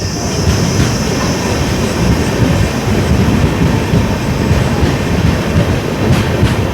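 Express train pulling away from Karimnagar station on a weekly run, a steady loud rumble of rolling wheels and carriages with faint rail clatter, no voices.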